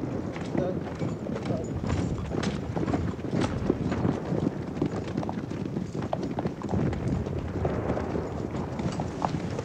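Horses gallop in a 1977 Romanian war film, a dense, continuous clatter of hooves running at speed, loud and busy, with voices calling over the noise.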